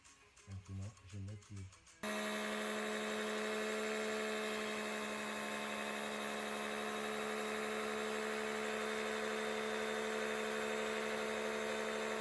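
A brief burst of rhythmic mechanical chatter gives way to a steady, loud 12V electric pump whine, sucking used oil out of a BMW E90/E91 differential, that drones on without a break.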